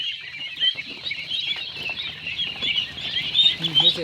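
About twenty-day-old ducklings feed on a farm, a dense, continuous chorus of high peeping calls mixed with pecking, fairly close, with some background voices.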